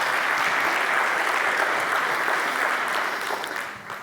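An audience at a conference talk applauds, a loud, dense wash of clapping from many hands that holds steady and then begins to taper off at the end.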